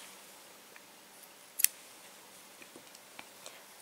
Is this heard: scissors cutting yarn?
yes